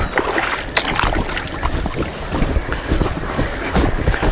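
Remote-controlled bait boat heading out across a public fishing pond, a loud, close wash of water and wind buffeting with motor hum running steadily throughout, no talking.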